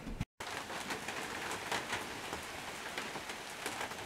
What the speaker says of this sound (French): je prendrais bien un petit verre de vin en écoutant la pluie tomber sur le toit de tôle